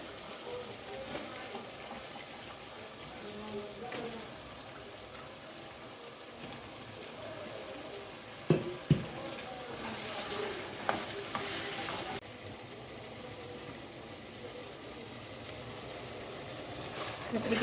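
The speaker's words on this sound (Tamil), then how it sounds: "கத்திரிக்காய் போட்டு வதக்கணும்." Brinjal sautéing with onion and tomato in a pan over a village cooking fire, a soft steady sizzle with a few stirring clatters, quiet and continuous.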